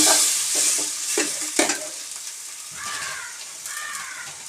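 Chopped tomatoes fry in a pan for egg curry, with a steady close sizzle and several sharp scraping stirs near the start. The crackle continues alone, with no voices.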